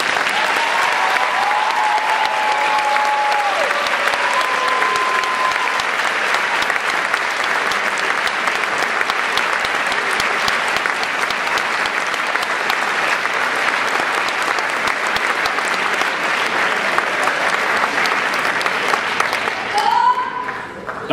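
A large audience at a pharmacy school honors convocation for the class of 2011 gives sustained, loud applause that holds steady for about twenty seconds before tapering at the very end.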